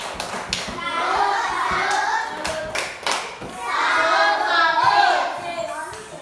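Classroom of children performing the Tepuk Salut clapping routine, bursts of sharp rhythmic hand claps mixed with excited chanting voices in a roomy space.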